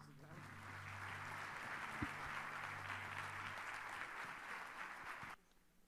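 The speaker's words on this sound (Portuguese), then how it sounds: "receber o pastor Eliseu com uma salva de palmas" A church congregation at an Assembly of God service welcomes Pastor Elizeu with a sustained wash of applause, dense and even, with a low hum beneath, until it cuts off abruptly near the end.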